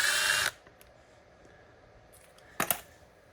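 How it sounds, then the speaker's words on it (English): A power screwdriver whirs briefly while backing a screw out of an Echo SRM225 string trimmer, followed by quiet clicks and a second short buzzing burst close by. "let's go ahead and take that screw out"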